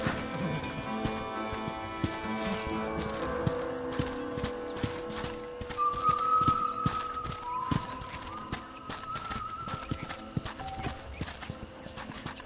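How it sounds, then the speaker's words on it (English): Horse hooves clip-clop in Red Dead Redemption, a steady galloping patter of hoofbeats that carries through the whole stretch over a continuous musical score. "let's see if you can still ride a horse."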